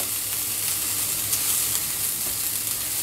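A coconut mixture roasting in a pan until golden, giving a steady close sizzle and frying hiss with light stirring throughout and no talking.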